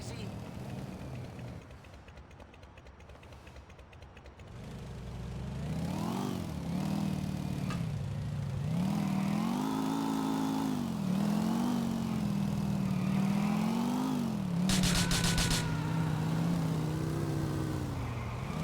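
A motorcycle engine in GTA IV revs and accelerates, its pitch rising and falling in repeated surges over several seconds, loud and continuous beneath someone talking.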